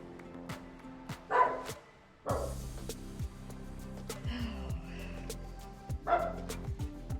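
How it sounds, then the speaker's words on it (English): A very vocal pet dog barks indoors in a few separate bursts, with short yips and a snort between them, fairly close but not loud, over a quiet low background. "My dog Scout is very vocal"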